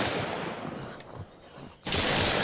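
Gunfire in the survival game Mist Survival, a steady crackle of distant shots that fades briefly and then returns loud and dense.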